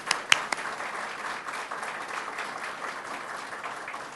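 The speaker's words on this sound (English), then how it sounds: "a round of applause for the men and women who build these buildings" Steady applause from a gathered crowd honoring construction workers at a graduate student residence topping-off ceremony, with a few sharp, close claps standing out early before settling into an even, moderate wash.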